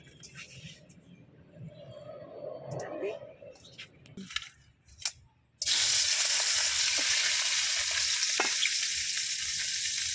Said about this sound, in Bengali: তো এখন আমি মাছগুলো হালকা ভাজা নিব।